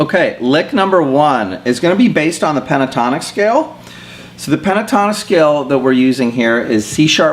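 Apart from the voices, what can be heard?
None of the usual background noises is heard.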